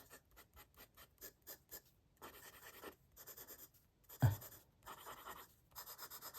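A Sailor Pro Gear fountain pen with a hard medium 21K gold nib scratches across paper in a quiet room. Quick repeated strokes come first, then longer scratchy passes with a brief thump partway through.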